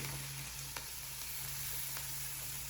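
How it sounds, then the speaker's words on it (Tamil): Meat fries in a pan for a home non-vegetarian meal, a faint, steady sizzle with a low hum beneath and a couple of light clicks, no voices. "ஒரு சைட் ஃப்ரை ஆகிடுச்சு ஒரு திருப்பி போடுறோம்"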